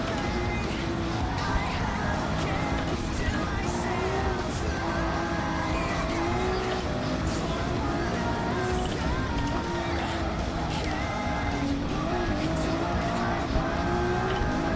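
A Gr.3 race car in Gran Turismo 7 at the Nürburgring, its engine droning loudly and without a break as the tires squeal and slide through the corners.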